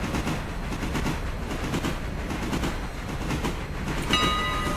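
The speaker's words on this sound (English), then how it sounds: "that passenger train's staying its good distance away." Passenger train running in the video game Railroader, a steady rumbling roll with rhythmic wheel clatter, and a brief brighter tone entering near the end.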